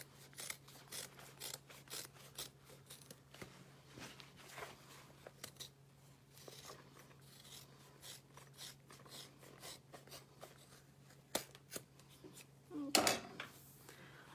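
Scissors snip through the fabric seam allowance of a small sewn wristlet, a steady series of quiet close cuts and rustles with a sharper burst near the end, and no talking.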